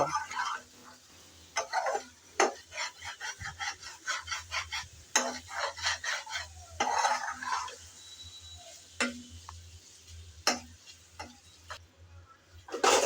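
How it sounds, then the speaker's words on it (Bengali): Dried shark shutki being stirred and fried in a pan, with repeated scraping and clinking strokes of a spatula over a soft sizzle, close and irregular. "এখন আবারও একটু নেড়ে চেড়ে ভালো করে বেজে নেব"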